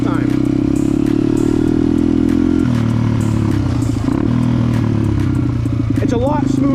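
A motorcycle engine revs and drops through downshifts with rev matching, a loud, close, continuous growl shifting pitch through each gear change, with a person talking over it.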